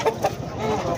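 Chickens cluck and squawk at a live poultry market in Cachoeirinha, Pernambuco, with a few sharp close calls over a dense, busy crowd murmur.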